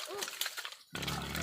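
A pig being handled for a wedding feast grunts and squeals in a brief noisy burst, close, followed by a harsher rougher stretch amid people's voices.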